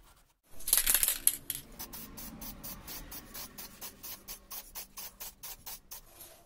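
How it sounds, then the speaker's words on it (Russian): Rapid rhythmic wiping strokes across a surface being degreased, a burst of rough scrubbing at the start settling into a steady series of short, even swipes, close and fairly quiet with no talk. "Сейчас все это обезжирю."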